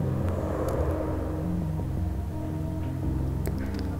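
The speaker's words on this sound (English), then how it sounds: "A bus goes by, making the walls shake." A bus rumbles past in a city apartment in the game Night Call, a low, steady engine drone that shakes the walls, heard alone without talking.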